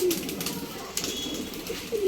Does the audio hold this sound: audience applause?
no